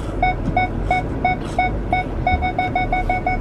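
Repeated sharp electronic beeps from a truck in a steady rhythm, speeding up toward the end, like a vehicle's reverse or parking warning, over faint background noise.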